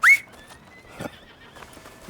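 A horse neighs at a stable in Red Dead Redemption 2, a sharp, loud whinny at the start that trails into a sustained tone, with soft hoof clops and stable noises following.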